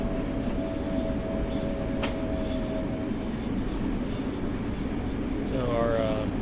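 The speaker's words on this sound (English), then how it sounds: "you see all the trains coming towards you" An oncoming Long Island Rail Road train rolls past in Train Sim World 4, a steady loud rumble of wheels on rail with a sustained squealing tone and a rising whine near the end.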